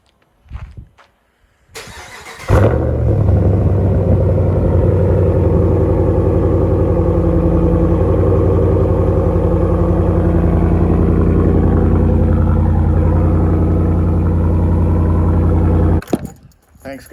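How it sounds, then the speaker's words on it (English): A 2018 Ram 1500 pickup's engine cold starts with a sudden loud crank and catch, then settles into a steady, close, rumbling idle that runs on for well over ten seconds before cutting off. "Off with a little cold start here."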